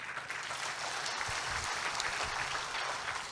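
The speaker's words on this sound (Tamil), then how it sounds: "உங்களது பலத்த கைத்தட்டலுக்கிடையே முதல் பேச்சாளர்" Audience at a Tamil debate event applauding to welcome the first speaker, a steady, fairly distant patter of many hands clapping throughout with no talk over it.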